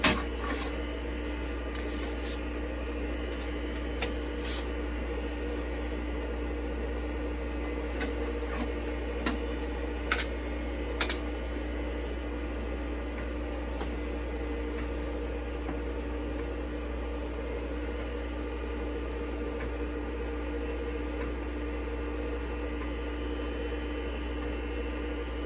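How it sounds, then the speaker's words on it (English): An IBM PC floppy disk drive formats a disk, a steady mechanical whir with a low hum, sporadic faint ticks and clicks of the head stepping throughout. "So we're formatting the 3rd disk."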